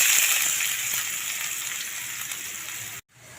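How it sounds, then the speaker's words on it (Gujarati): Onions frying in hot oil with asafoetida for pav bhaji give a loud, steady, close sizzle that cuts off abruptly near the end, with no talking. "તો આપણે હિંગ નાખી લઈશું। ત્યાર પછી ડુંગળીને વઘારી લઈશું।"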